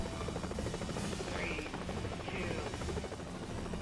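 A rescue helicopter in a video game simulator drones with a constant rotor buzz and engine hum, steady and loud throughout, with faint background speech underneath.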